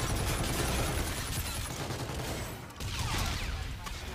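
Gunfire in an online shooter video game, including a sniper shot: a loud, dense, continuous rattle of shots that briefly dips before the barrage resumes.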